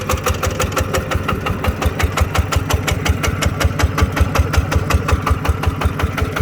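A motor idles with a steady, even rhythmic chugging and no audible bearing noise, close and constant throughout with no other sounds.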